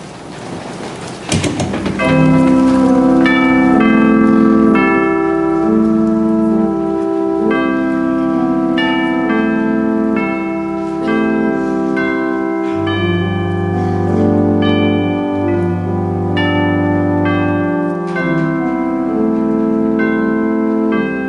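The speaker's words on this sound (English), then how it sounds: "it is church bells in every community around the world that have found their way into" Church bells ringing during a Sunday morning worship service, a long sequence of clear pitched bell tones overlapping and sustaining in a melodic pattern, loud and without speech.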